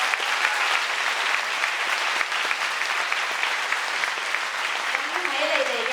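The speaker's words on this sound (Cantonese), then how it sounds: "俾啲掌聲佢哋" A theatre audience applauds after a stage performance of Grease, with dense, steady clapping from a full crowd that fills the hall evenly from start to finish.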